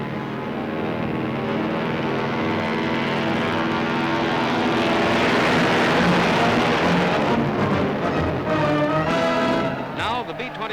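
B-29 bomber propeller engines drone loudly and steadily as the aircraft group comes in to land at Washington after a long polar flight, with the pitch shifting toward the end and a narrator speaking over it.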